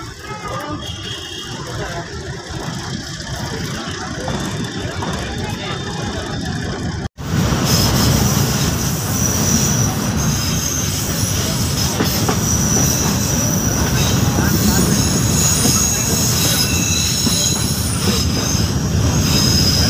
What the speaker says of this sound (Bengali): ট্রেনটি এখন তিস্তা জংশন রেলওয়ে স্টেশন প্রবেশ করছে